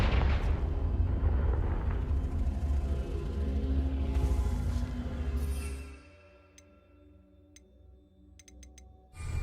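A Confringo fire-blast spell in Hogwarts Legacy bursts with a loud, crackling, rumbling explosion that fades into quiet, followed by a few faint ticks and clicks.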